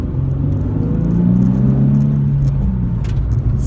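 Car cruising on an expressway, a steady close low rumble of engine and road noise with a faint rising tonal drone and no talk.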